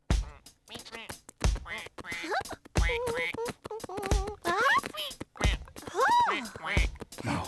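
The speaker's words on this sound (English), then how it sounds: "Oh, Maisy, are you being a duck?" A run of nasal duck quacks sounds close and lively, several in quick succession with short gaps, mixed with light clicks.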